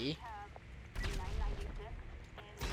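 A rocket-propelled grenade fired at a cargo ship in a video game, with blasts bursting out in a few loud, sharp hits over a rumbling low background, mixed with a voice talking.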